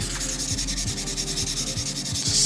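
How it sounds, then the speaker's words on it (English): Rhythmic rubbing strokes of a 600-grit sanding sponge on the body of a 1/24 scale Porsche 911 GT3 model kit, close and steady at about two strokes per second, with no talk. "I will take a 600 sponge and start sand all the places"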